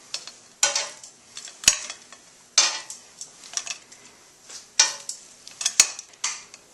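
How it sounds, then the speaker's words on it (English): Toasted bread slices for fava bean bruschetta are set onto a plate, making a scattered series of close ceramic clinks and light scraping taps with quiet gaps between them. "I'm going to plate these in a nice plate here"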